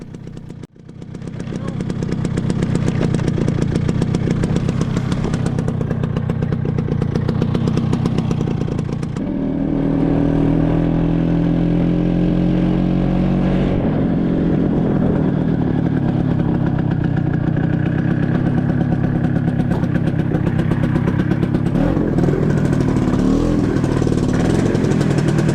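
Stella scooter engine running steadily at a slightly high idle, a close, continuous buzzing drone whose pitch shifts partway through as the idle is adjusted, with no talk over it.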